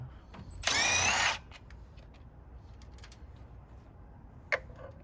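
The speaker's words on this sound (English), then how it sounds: "I need to take this bolt out as well" A power tool runs in one loud whirring burst of under a second while removing a bolt on a 1988 Chevy OBS truck, followed by faint metallic clinks and a sharp tap, with no talking.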